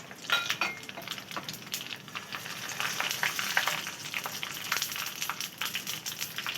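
Mustard seeds dropped into hot coconut oil crackle and sizzle close by, a busy patter of tiny pops with faint clinks of a utensil against the pan, no voices.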